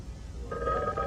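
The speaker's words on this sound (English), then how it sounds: "Oh, it's the phone." An old telephone bell starts ringing abruptly partway through, a bright steady ring over low background rumble in an old science fiction film.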